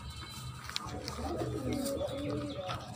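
A black-green pair of pigeons coos quietly in low, rolling calls, with faint wing flutter and brief chirps around them and a voice speaking softly underneath.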